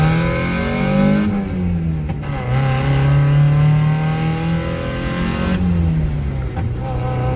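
A car engine accelerates to overtake on the road, recorded from inside the car. Its sustained rumble climbs in pitch through the gears, dips briefly, then rises again. The engine noise stays loud and steady throughout.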